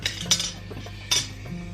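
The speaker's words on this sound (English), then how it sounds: "Bunch of cutlery." Metal cutlery clinks in a food container at a Turkish lokanta in Istanbul, with a few short, bright clinks spaced out against a soft, low background of the restaurant.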